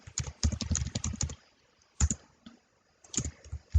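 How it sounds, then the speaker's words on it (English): Quick bursts of typing on a computer keyboard, close and fairly quiet, with pauses between clusters of keystrokes. "I can type in, for example, online classes."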